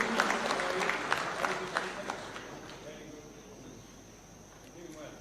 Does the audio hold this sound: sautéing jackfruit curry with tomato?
no